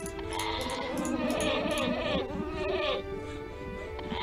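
Goats bleat repeatedly in a city-building video game, layered wavering calls over a steady buzzing game ambience, fairly loud and close with no talk.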